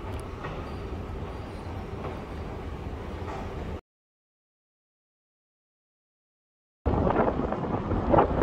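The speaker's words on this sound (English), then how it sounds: "So I'm trying the train." Train ride in Doha: steady broadband rumble and rattle of a rail car in motion, cutting out to silence midway before the running noise returns, louder and rougher.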